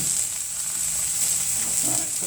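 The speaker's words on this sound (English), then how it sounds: "as soon as they go in, I get what I like to call the sizzle sazzle. They start to sizzle." Pork tenderloin medallions sizzle loudly and steadily in a hot pan, a bright continuous crackling hiss with occasional soft stirring sounds and no talking.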